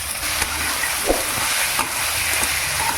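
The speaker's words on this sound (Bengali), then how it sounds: "আদা রসুন যে বেটে রেখেছিলাম ওটা দিয়ে দিচ্ছি, আর দিয়ে দেবো কাঁচা লঙ্কাগুলো। একসঙ্গে ভালো করে ভাজবো" Ginger-garlic paste and green chillies frying in a pan give a steady close hiss of sizzling oil with faint stirring scrapes now and then, and no talk.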